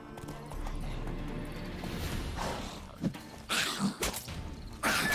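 Hooves of Roach, the horse in The Witcher 3: Hearts of Stone, clip-clop in a steady gallop, with a neigh and a few louder, sharper hoof impacts near the end.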